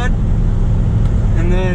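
Supercharged Chevy-powered Jaguar driven at low speed, a steady loud engine drone with a rising whine near the end, running continuously throughout.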